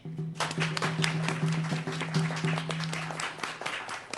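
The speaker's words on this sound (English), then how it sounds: "Please welcome with a warm round of applause, Mr. Jon Ghahate." An audience at the Indian Pueblo Cultural Center applauds a speaker being welcomed, in a quick burst of clapping that gradually thins out, with a low steady hum beneath.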